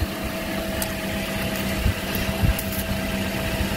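A Toyota car engine idles with a steady, low, continuous hum and a faint tonal whine, close by, with no talking and a few small knocks.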